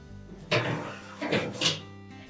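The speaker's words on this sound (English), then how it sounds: "we're going to open up that door and we'll just remove the racks" Metal clatter and sliding scrapes from a Whirlpool range, its oven door opened and the wire racks pulled out, three distinct bursts close by with quiet gaps between.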